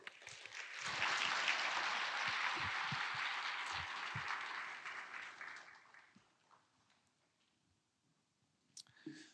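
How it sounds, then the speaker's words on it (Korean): A church congregation claps together during an all-generations worship service, a loud swell of applause that holds for several seconds, then thins and dies away into near quiet with a few stray claps at the end. "영광의 박수를 올려드리겠습니다"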